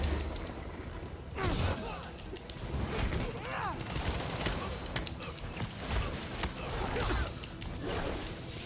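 Enemies fire on the player in the Spider-Man PS4 video game: dense bursts of rapid gunfire and whooshing action effects fill the scene, with a voice speaking over the loud, busy mix.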